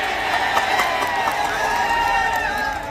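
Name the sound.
crowd clapping at a wrestling match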